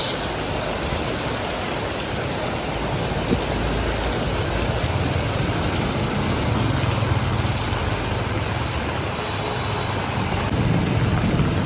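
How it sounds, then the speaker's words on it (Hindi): Heavy rain pours down in Hanoi, Vietnam, in a steady, dense roar with no breaks, filling the whole soundscape. "बारिश।"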